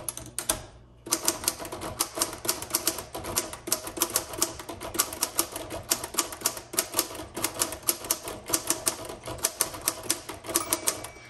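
A repainted 1954 Royal HH manual typewriter typing steadily, with dense rapid key strikes in bursts after a brief pause near the start, close and clear with no talk.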